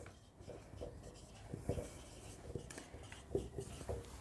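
Pen writing a working note by hand on paper, soft scratchy strokes and taps at irregular intervals, close and quiet against faint room noise.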